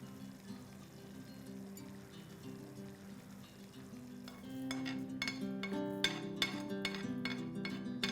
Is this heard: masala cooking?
yes